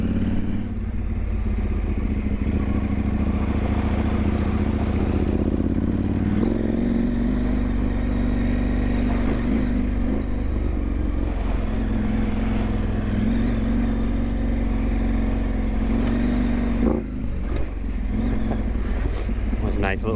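A KTM 890 Adventure R motorcycle engine drones steadily in first gear through deep puddles, with water splashing and clattering over the continuous rumble as a rider talks over it.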